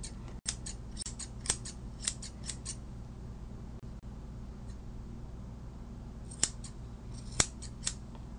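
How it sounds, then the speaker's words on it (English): Curved grooming scissors snip in quick, crisp bursts, a cluster of sharp metallic cuts followed by a pause and then a few more isolated snips, close and clean against a quiet room. "And you use the curved scissors here, I see."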